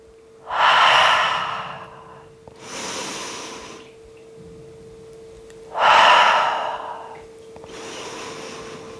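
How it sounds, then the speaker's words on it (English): Deep, audible yoga breathing during a slow hip and hamstring flow: four long, close breaths, two strong and two softer, each a breathy rush with quiet pauses between. "Take a round of breath."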